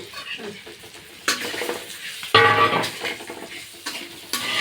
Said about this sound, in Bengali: এবার একটু জাস্ট এটা ফ্রাই হয়ে আসবে, সুন্দর স্মেল চলে আসবে